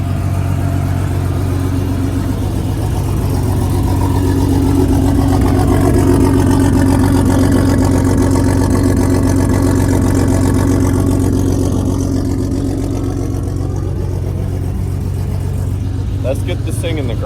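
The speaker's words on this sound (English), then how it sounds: "I just started the Jeep for the last time" A Jeep Cherokee XJ with its old motor idles just after starting, a loud steady engine drone with a low hum that holds constant throughout, close to the listener.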